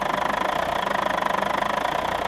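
A GM PD 4104 bus engine, part of a restoration of a landslide-buried coach, running steadily with a dense, rumbling, rapidly pulsing drone and faint knocking, close and continuous with no voices.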